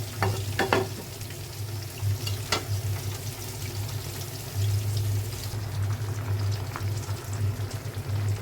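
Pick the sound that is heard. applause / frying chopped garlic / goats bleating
frying chopped garlic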